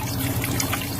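A portable powered shower sprays water inside a truck, a steady hissing, splashing stream running continuously at close range with no talk.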